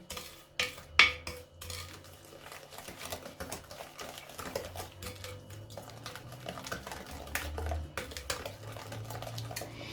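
Eggs, salt and sugar being mixed by hand in a bowl for a rhubarb yogurt cake batter, with steady clinking and scraping of a utensil against the dish, some sharper knocks near the start, no talk.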